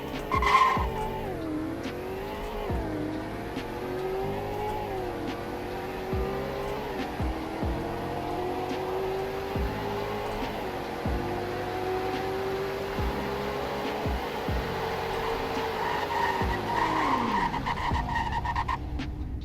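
2017 Chevlon Captain police car driven flat out in the Greenville game, a steady engine whine climbing through gear changes with tire skids, loud and continuous with no talking, ending as the revs drop away.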